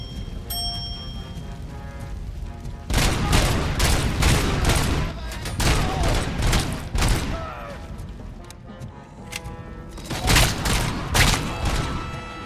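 OCP shotgun firing in RoboCop: Rogue City: after a quiet opening, loud, heavy blasts come in rapid succession, then thin out, with a final cluster of shots near the end. No one speaks.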